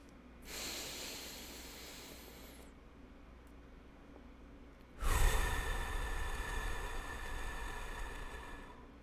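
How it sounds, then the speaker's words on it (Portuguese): Two long, slow breaths drawn in and let out during a tactical breathing exercise, a steady airy inhale followed by a stronger, louder exhale, close and alone with no talking. "você demora 4 segundos para inspirar e você demora 4 segundos para expirar"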